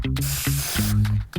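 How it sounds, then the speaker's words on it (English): Dove dry spray moisturizer spritzed in several short bursts, close and crisp hissing puffs separated by brief pauses, the last burst longer, with a low tonal hum in the background. "Dry spray. I've never used one of these before."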